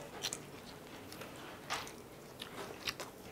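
Old-style Korean fried chicken is bitten and chewed close up, giving a few crisp crunches and soft, wet chewing sounds at low volume with no talking.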